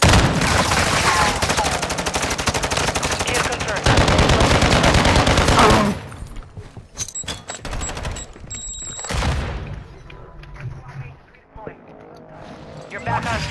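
Dense, rapid gunfire bursts dominate the first six seconds in Call of Duty: Modern Warfare II, then sparser shots and game sounds follow, with a player talking over the action.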